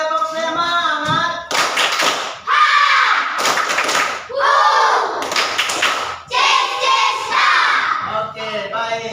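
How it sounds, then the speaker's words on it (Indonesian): A school class repeats the 'tepuk semangat' spirit clap in a science lesson, energetic patterned clapping interleaved with loud group chanting and shouts, delivered in several rhythmic bursts separated by short pauses. "sekali lagi tepuk semangat"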